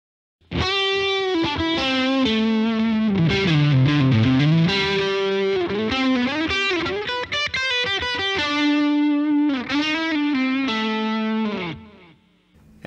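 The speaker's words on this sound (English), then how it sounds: "This is basically going to be the same sound with the boost engaged." Loud distorted Strat-style electric guitar through a FlyRig pedal with the boost engaged, playing sustained lead lines and bends that ring out alone before fading at the end.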